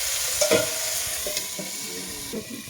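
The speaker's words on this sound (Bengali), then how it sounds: "একটু নেড়ে চেড়ে নিয়ে আমি একটু ঢাকা দেবো।" Tomatoes frying in a pan with salt, stirred with a utensil: a steady sizzle under a few distinct scraping strokes of the stirring, close up and with no talking.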